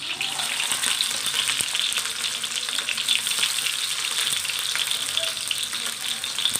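A tempering of cumin, chilies, garlic and onion fries in hot oil, giving a dense, steady crackling sizzle with scattered stirring taps throughout.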